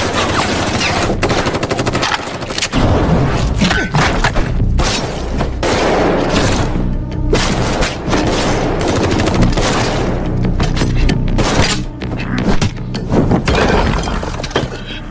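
Pistol gunfire in a film fight scene bursts out in rapid, loud volleys of shots mixed with shattering, breaking impacts, dense and continuous throughout.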